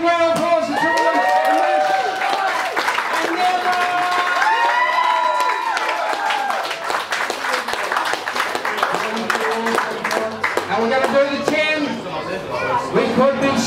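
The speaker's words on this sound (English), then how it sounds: "Give him a big round of applause." Crowd at a hot wing eating contest clapping and cheering in a sustained, loud wash under an announcer's amplified voice, with whoops scattered throughout.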